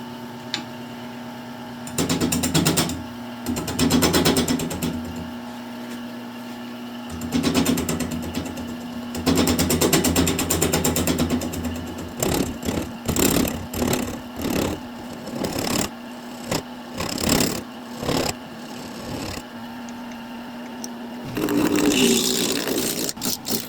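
A woodturning lathe spinning a yew bowl, with a steady motor hum under it and repeated scraping bursts as the tool cuts the wood, some bursts long and some short and choppy.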